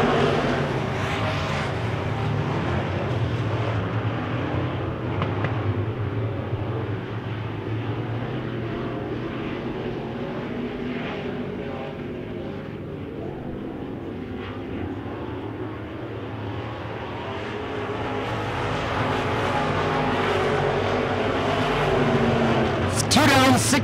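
Wissota Midwest Modified race cars roar around a dirt track, their engines forming a continuous loud drone that swells and fades as they pass, with a race announcer's voice running over the engine noise.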